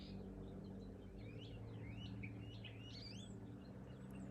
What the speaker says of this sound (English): sounds in my yard, birds, the cat wailing in the background.